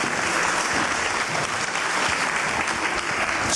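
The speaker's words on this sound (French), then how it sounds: "Je crois qu'on peut l'applaudir effectivement très fort" Audience applause for landscape architect Michel Desvignes at the Familistère, a dense, loud, sustained burst of many hands clapping together with no gaps.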